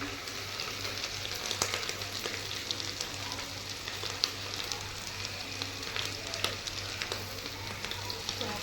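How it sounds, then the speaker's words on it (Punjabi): Garlic, ginger and onion frying in a pan, a continuous soft sizzle with occasional light clicks and stirring taps, fairly quiet and steady throughout. "ਲਸਣ ਅਦਰਕ ਆਪਾਂ ਇਕੱਠਾ ਹੀ ਪਾਇਆ ਆ ਤੇ ਚੰਗੀ ਤਰ੍ਹਾਂ ਬਰਾਊਨ ਕਰਾਂਗੇ ਇਹਨੂੰ"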